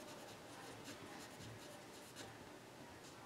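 Marker or chalk writing on a board during a maths lecture, a steady run of faint squeaky strokes and taps over a quiet room hiss, with no voice.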